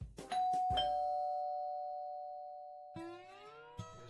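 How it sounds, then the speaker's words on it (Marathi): A household doorbell rings in a Marathi TV serial scene, a bright electronic chime that rings out and fades slowly, then sounds again with a second ding-dong; no one speaks. "आणि बेल पुन्हा वाजली."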